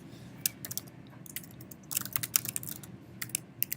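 Typing on a computer keyboard while editing a title in iMovie, with bursts of quick, crisp key clicks and short pauses between them, close and clear with no speech.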